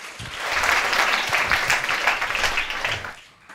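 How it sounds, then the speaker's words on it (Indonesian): An indoor audience at a sarasehan gathering applauding a speaker, dense steady clapping that swells in quickly, holds for about three seconds, then fades out. "Tepuk tangan dulu buat pembicara kita."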